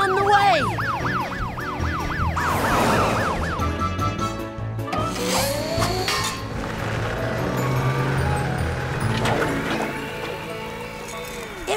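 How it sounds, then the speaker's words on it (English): A wailing emergency siren rises and falls rapidly, joined by other warbling siren tones and dense background noise that stays loud throughout. "Sirens say help's on the way!"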